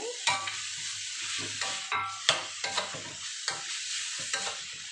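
Minced pork stir-fried with holy basil in a hot pan: steady sizzling throughout, broken by repeated sharp scraping and clanking strokes of a spatula against the pan at an irregular rhythm, close and alone with no voices.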